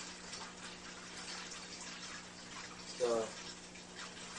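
Aquarium water draining out during a water change, a steady soft rush of flowing water with a brief louder gurgle partway through and someone speaking briefly.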